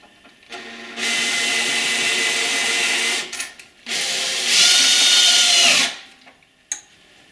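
A power tool cuts through to a screw while a steel lifting system is being set up. It gives two long, loud, steady whirring runs separated by a short pause, then a brief tap at the end.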